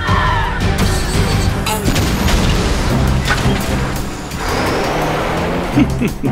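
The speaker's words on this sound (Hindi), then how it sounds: "ब्लू पल्स गन आक्रमण।" A blue pulse gun fires in an animated Hindi car cartoon, a loud continuous burst of booms, whooshing blasts and crashing impacts layered over music.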